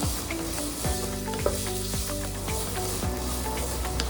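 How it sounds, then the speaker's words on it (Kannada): Onions and green chillies fry in hot oil in a pan, giving a steady, close sizzle broken by repeated scraping stirs at an even pace. "ಎಣ್ಣೆ ಹಾಕ್ಕೊಂಡು ಸ್ವಲ್ಪ ಈರುಳ್ಳಿ, ಹಸಿರು ಮೆಣಸಿನ್ಕಾಯಿನೆಲ್ಲ ಹಾಕ್ಕೊಂಡು ಚೆನ್ನಾಗಿ ಬಾರಿಸೋಣ"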